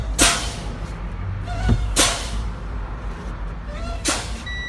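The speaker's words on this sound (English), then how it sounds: "Flip the key on and fan the brakes down till I hear the alarm." Truck air brakes on a CDL in-cab inspection, pumped down with the key on until the low-air alarm trips: three sharp, loud air-release hisses about two seconds apart over a low idling rumble, with faint tones near the end.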